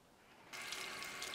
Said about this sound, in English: Then wet your face cloth with warm water